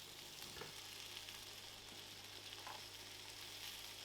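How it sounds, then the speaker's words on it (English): Peppers stir-frying in a wok on an induction hob for a sweet aromatic beef dish give a faint, steady crackling sizzle with a few soft scrapes and clinks, no voices. "once they're cooked, it's in with the peppers"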